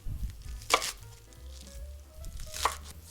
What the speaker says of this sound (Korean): 이쪽은요 저희가 먹기 편하게 좀 잘게 잘라주겠습니다.